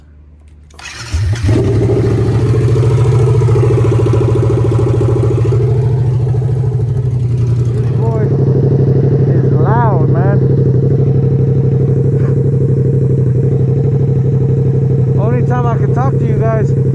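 A Yamaha FZ-07 motorcycle fitted with a cheap, really loud modified exhaust starts up and settles into a steady, deep idle that stays close and loud throughout, with a few faint squeaky chirps near the end.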